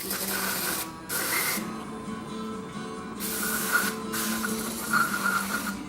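Aerosol spray can blasting cleaner onto Jeep Cherokee brake parts, three hissing bursts of about half a second to a second each, close and sharp over a quiet background.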